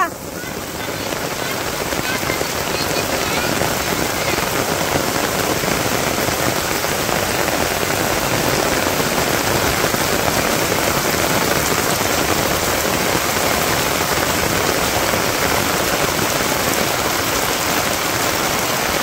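Steady heavy rain pours down across a Bangladeshi village, a dense even hiss of drops on surfaces that holds at the same strength for the whole stretch, with no voices breaking through.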